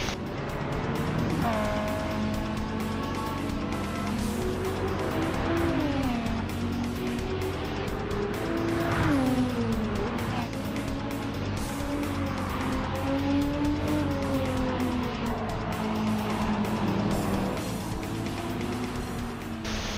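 A Nissan Nismo GT3 race car in Gran Turismo 7 drones steadily at high revs, its engine pitch rising and falling through gear changes with occasional tire squeal, loud and continuous.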